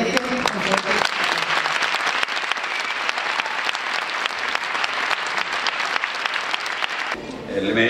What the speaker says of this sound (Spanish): Quería pediros a todos un aplauso para desde el primer participante hasta el último